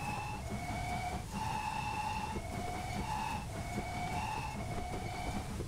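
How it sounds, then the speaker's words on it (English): A Great Western King class steam locomotive in Train Simulator sounds its two-tone whistle in a run of short, steady blasts that switch between two pitches, heard fairly quietly over a low rumbling background. "A beautiful King class, got a lovely two-tone whistle"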